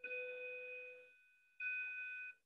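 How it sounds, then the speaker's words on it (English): A school bell or electronic chime in a classroom sounds two clear sustained tones, one ringing about a second and a second ring shortly after, with no talking over it. "I'll wait for the bell."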